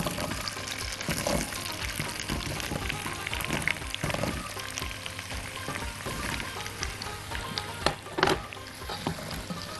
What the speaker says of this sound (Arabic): حطيت الزبده كده، تمام، وابتدي بقى انزل الكوسه بتاعتنا